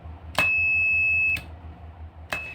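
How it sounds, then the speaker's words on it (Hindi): An electrical buzzer wired through the normally closed terminal of a contactor gives a steady tonal beep lasting about a second, cut off by a click, then another click and a fresh start of the tone near the end. "अभी बजर का साउंड आ रहा है"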